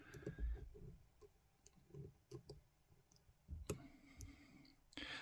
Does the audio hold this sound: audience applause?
no